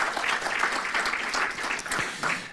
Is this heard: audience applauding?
yes